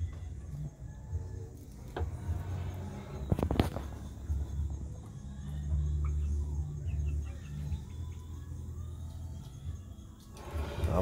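Chickens clucking inside a coop, murmuring and squawking on and off at close range, with one louder burst of clucks partway through.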